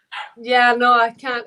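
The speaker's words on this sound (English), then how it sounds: "So that's my dog that you can hear barking." A pet dog barks and yips a few times close to the microphone, its voice overlapping with a person speaking indoors.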